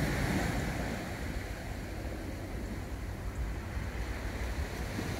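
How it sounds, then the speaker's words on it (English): Surf washes along a beach shoreline in a steady, close roar, with wind buffeting the microphone throughout and no voices. "Excuse any noise interference, we're right beside the beach here, beside the shoreline."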